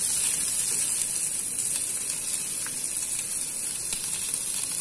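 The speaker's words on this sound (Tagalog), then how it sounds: "Onion, haluin lang hanggang sa maluto ang onion." Onion sautéing in a pan for chicken adobo, a steady close sizzle with faint crackles and no talk.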